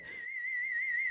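A person whistles a single sustained, slightly wavering tone, close and clear, after a brief breathy onset, with no talking.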